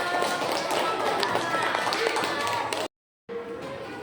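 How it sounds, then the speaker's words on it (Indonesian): A school class claps for a classmate's answer about ecosystems, a dense burst of hand claps that cuts off briefly, then resumes more lightly. "Kasih tepuk tangan dong"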